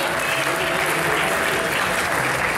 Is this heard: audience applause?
yes